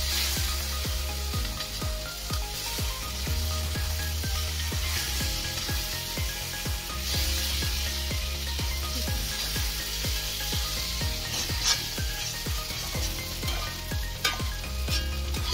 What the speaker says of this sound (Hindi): इन अंडों को मैं पलट दूँगी ताकि दूसरे साइड पर भी अच्छे से थोड़ी ब्राउन हो जाए।